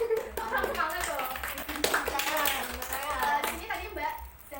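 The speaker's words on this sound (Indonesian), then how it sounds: "Oke, tepuk tangan buat kelompok putri." Applause for a girls' team during an ice-breaking game session, steady clapping from a group lasting several seconds, with children's and adults' voices talking over it.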